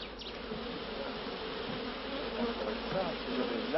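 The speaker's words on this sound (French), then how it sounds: "C'est la deuxième fois que je viens chercher des abeilles ici." Bees swarming around old beehives reoccupied by a swarm in a French garden, a dense continuous buzzing hum filling the scene, steady and fairly close with slight swells.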